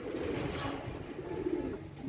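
Teddy pigeons coo in low, soft murmuring tones that carry faintly and steadily throughout, with no speech.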